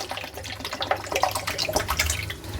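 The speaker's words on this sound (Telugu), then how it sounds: "ఇప్పుడు సిరప్కి షుగర్ వేసుకోవాలి మనం షుగర్ ఎంత వేసినామో వాటర్ కూడా అంతనే వేసుకోవాలి" Water splashes and trickles into sugar in a pan to make syrup for motichoor laddu, a short close pour with bubbly, uneven gurgles and no talk.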